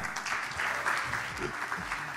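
Audience applause welcoming a speaker onto the stage at a developer conference session on serverless, a steady, continuous clapping throughout with faint voices underneath.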